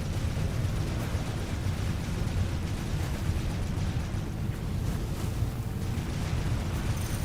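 In a video game, a mortar explosion gives a low, rumbling roar that stays at a steady, constant loudness throughout with no clear separate blasts.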